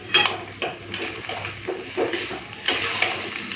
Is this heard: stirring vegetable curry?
yes